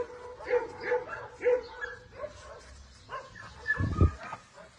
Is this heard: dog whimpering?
yes